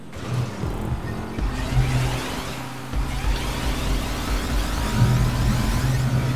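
A car in the video game GTA V drives on, its engine droning and surging with a few revving swells over a steady road rumble, fairly loud and close with no talk.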